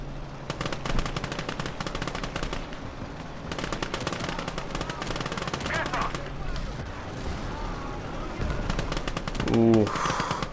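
Heavy gunfire in the video game Last Grenadier 1946, rapid machine-gun bursts and booming cannon shots repeating through a battle near a castle, loud and dense with a voice talking intermittently over it.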